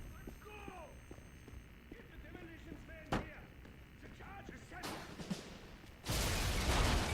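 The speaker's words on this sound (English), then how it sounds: "Get the particle cannon." Particle cannon firing in Wolfenstein (2009) on Xbox 360: a sharp single blast, then a loud sustained roaring burst near the end, set over busy game ambience with chirping electronic effects.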